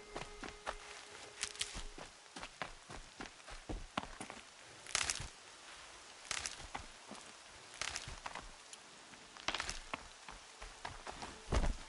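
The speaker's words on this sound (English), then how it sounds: "More rain." Rain in a video game patters steadily on a surface, broken by bursts of crisp crackling and footstep-like crunches, with no voices.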